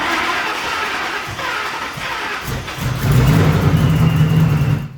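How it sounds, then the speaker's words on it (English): A supercharged Ford Mustang engine runs close by, then revs up sharply partway through. The raised note holds with a strong whine before cutting off abruptly at the end. "So here we can clearly see the belt spinning the pulley, which in turn rotates the impeller, forcing air into the engine."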